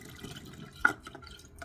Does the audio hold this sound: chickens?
no